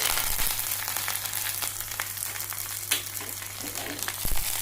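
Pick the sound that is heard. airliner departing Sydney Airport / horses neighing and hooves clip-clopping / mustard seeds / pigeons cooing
mustard seeds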